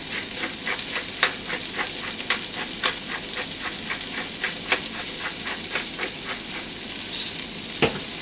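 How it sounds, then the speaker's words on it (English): Shredded cabbage salad tossed with fresh dill, salt and cracked pepper gives a steady, crisp crackling rustle with scattered sharp ticks and no talk. "Those are the ingredients, and give it a mix."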